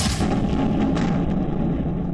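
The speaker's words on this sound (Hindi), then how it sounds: "रूसी टैंक आगे बढ़ रहा है, तभी टैंक में अचानक भीषण धमाका होता है।" A Russian tank explodes during the Russia-Ukraine conflict: a loud, sustained blast with a crackling rumble that stays heavy and close for about two seconds.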